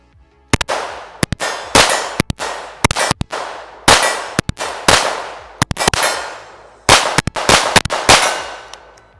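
A TX22 pistol fires .22LR Mini Mag rounds, each sharp report followed by a ringing clang of a steel target, about a dozen shots in an uneven paced string, loud and close.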